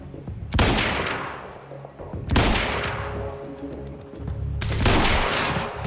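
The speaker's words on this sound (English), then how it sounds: "I really like this rifle." Rifle gunfire in the video game Quantum Break: three loud, close bursts of shots spaced a couple of seconds apart, each trailing off into a rumbling decay.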